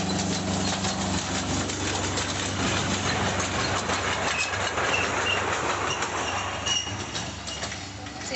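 Train rolling past a park near the seaside, a loud sustained rumble with rhythmic clickety-clack of wheels on rails and some wheel squeal, heard close and continuous throughout.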